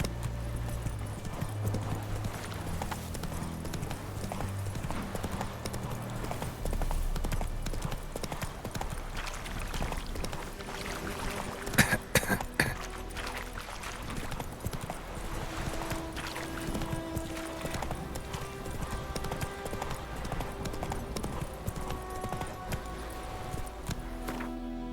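Horse hooves clip-clop steadily at a brisk pace in The Witcher 3: Wild Hunt, fairly faint under in-game ambience with a brief burst of clatter midway.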